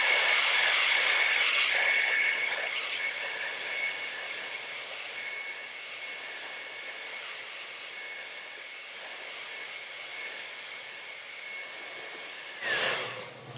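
A hair dryer blows steadily on wet acrylic paint, a loud broadband rush that starts strong and eases slightly, holding nearly level before a brief bump near the end.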